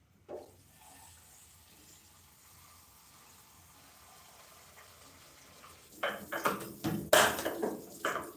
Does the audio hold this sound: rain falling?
no